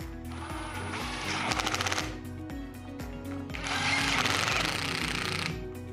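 Bolts being driven into the cable entrance of a Tsurumi HS Series submersible pump, probably with a power driver. Loud buzzing machine bursts come in two long stretches with a short rattling run between them, with no talking.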